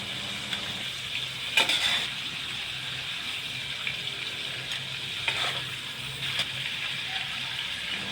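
Shrimp frying in hot oil in a pan, a steady bright sizzle running the whole time, with a few louder clatters of a utensil and faint splashing now and then.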